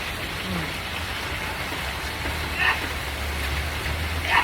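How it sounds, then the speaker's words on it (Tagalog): Steady rain falls in a soft, even hiss, with a few louder patters of drops landing nearby. "Kasamang ulan."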